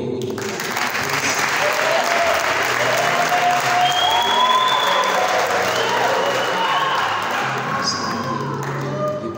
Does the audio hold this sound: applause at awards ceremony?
yes